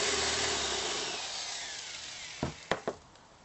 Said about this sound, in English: I'm going to be drilling the hole on the front side. I use about a 3/8 inch drill bit.